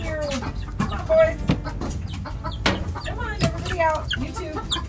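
Chickens clucking inside a coop converted from a Home Depot shed, a busy run of short, overlapping clucks and squawks from several birds nearby, with some talk in the background.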